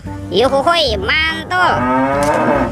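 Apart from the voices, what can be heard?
cow mooing, toy animal sound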